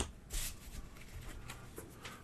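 Shuffling a deck of cards for the Kingdom Legacy board game, a soft riffle burst followed by quieter papery shuffling and card handling close by, with no talk.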